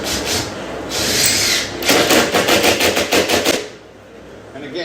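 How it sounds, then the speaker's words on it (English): Screws driven with a power drill through metal corner bead into a wooden stud during drywall hole repair, a loud continuous whirring burst followed by a rapid rattling series of pulses as each screw bites, then quieter. "So these are actually going to get driven right through the metal of the corner bead into the stud behind it."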